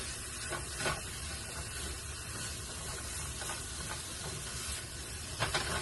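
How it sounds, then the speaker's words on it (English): Okra being stirred in a pan with onions and garlic, a steady close sizzle and hiss of frying with a few soft scraping stirs rising through it, no voices. "now I can start mixing up my okra with the onions and the garlic"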